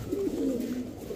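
Iceberg Damascene pigeons, a breeding pair with young, give a soft low cooing close by, brief and murmuring over a muffled background.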